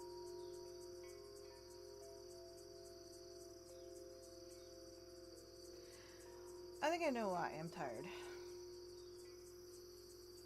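A steady high-pitched drone of cicadas pulses continuously in the background while a person speaks briefly partway through.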